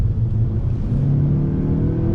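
A 2020 Mazda 6 sedan's engine hums and rumbles up close, its low whir shifting in pitch as the car brakes into a bend.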